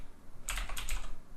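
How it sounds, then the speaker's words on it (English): A short burst of keystrokes on a computer keyboard, several quick close taps clustered in under a second against a quiet background. "I'm going to type in"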